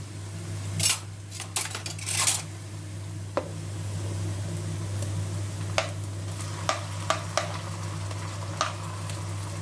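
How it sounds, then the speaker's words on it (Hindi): Finely chopped tomatoes tipped into golden brown onions frying in a karahi, giving a brief rush of clattering and scraping followed by scattered ticks and spoon taps over a steady low stove hum. "अब इसमें हम ऐड करते हैं टमाटर"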